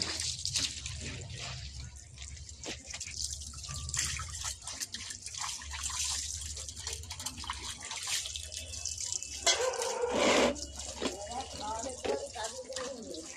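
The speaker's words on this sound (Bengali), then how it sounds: "এই যে জামা কাপড় কাচলাম, সব পাড়িয়ে কাচলাম, সেটা এখন ধোবো।" Hand-washed clothes being rinsed, with intermittent splashing and dripping water, sloshing and wringing noises, and a soft background hum, while someone talks throughout.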